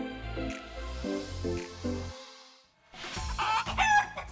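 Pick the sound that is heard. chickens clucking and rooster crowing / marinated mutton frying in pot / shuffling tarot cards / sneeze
chickens clucking and rooster crowing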